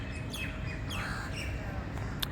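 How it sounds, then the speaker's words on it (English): Small birds chirp and sing outdoors, a few quick sweeping tweets over a steady rumbling background, moderately near, with no talking. "The birds are singing."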